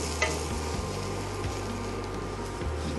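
Dry garlic and dried onion fry in sesame oil with a continuous soft sizzle, and low hums and faint clicks sit beneath it, with no talk.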